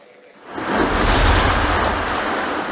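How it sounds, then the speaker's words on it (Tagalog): Rain and strong wind from Super Typhoon Egay in Isabela, a roaring wash of gusting air and rainfall that surges in abruptly and holds loud and steady, with no voices heard. "Panakanakang ulan at malakas na hangin ang naranasan dito sa Isabela"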